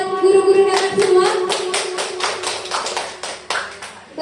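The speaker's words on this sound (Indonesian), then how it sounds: "Boleh tepuk tangan sekali buat guru-guru kami semua." A small group of teachers and staff at an elementary school gathering claps together in a sharp burst, with individual hand claps clearly audible near the listener, over a sustained tonal hum, then thins out toward the end.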